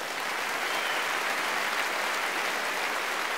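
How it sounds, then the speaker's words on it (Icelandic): Steady applause from a concert audience at a symphony performance fills the whole stretch, a dense even patter of many hands clapping with no voices on top. "Gefa honum gott klapp."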